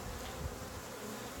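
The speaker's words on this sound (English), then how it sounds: "You don't want to scare the bees away." Honeybees buzzing around an open hive during an inspection, a dense, continuous hum from many insects close by with no talking.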